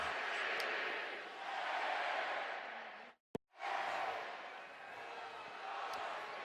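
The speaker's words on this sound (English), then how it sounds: "it's a big crowd here in Boise, but a stunned crowd" Large football crowd at a Boise stadium, a broad sustained murmur of many voices. It drops to near silence for a moment with a single sharp knock, then swells again and holds steady.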